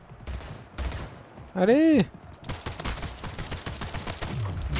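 Rapid bursts of automatic gunfire from a weapon in the arena shooter Splitgate, packed densely through the second half, with a brief rising-and-falling tonal effect and a spoken word just before.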